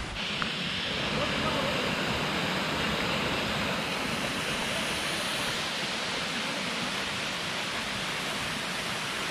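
A waterfall beside the mountain road to Lava from Siliguri, a dense, steady roar of falling water that holds unbroken throughout, loud and close with no letup.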